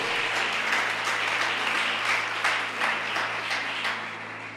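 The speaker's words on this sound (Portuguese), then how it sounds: "Você pode aplaudir o Senhor?" An audience at an emotional intelligence course claps together in a steady, full round of applause that lasts several seconds and eases off toward the end, with a faint low hum beneath it.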